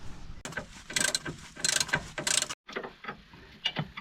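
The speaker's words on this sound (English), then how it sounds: "Underneath, you can use a socket if you rather, and just give it a turn." A socket wrench turns the drop link nut under a Peugeot 107, Citroen C1 or Toyota, giving close, crisp ratcheting clicks in short bursts, with a brief pause before a few more turns.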